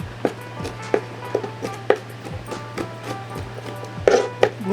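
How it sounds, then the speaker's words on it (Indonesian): A small kitchen knife chops food finely on a board in a home kitchen, with irregular sharp taps at a steady working pace, close and fairly loud, with a low hum underneath. "Bunda tidak punya pisau yang agak gede, jadi agak susah Bunda mau cincang begini"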